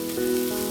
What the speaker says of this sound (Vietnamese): cho hành băm vào phi thơm trước.